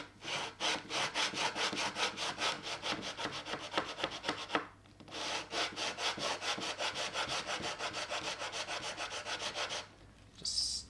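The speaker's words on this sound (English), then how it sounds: "just gently sand like that." Wood being sanded by hand, a steady back-and-forth rasping in an even rhythm, close and clear, with a short pause partway through and another near the end.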